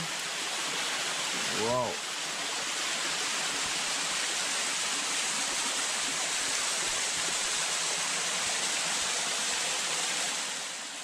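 A jungle waterfall roars loudly and steadily the whole time, a dense wash of falling water close by. A man gives one brief exclamation near the start.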